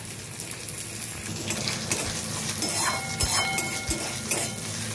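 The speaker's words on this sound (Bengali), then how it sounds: "সেটা ভালো করে ছেঁকে নিয়ে আমি একটু অল্প ফ্রাই করে রেখে দেবো।" Soaked Gobindobhog rice shallow frying in mustard oil and ghee, a steady close sizzle with occasional scraping and stirring clinks of a utensil against the pan, no talking.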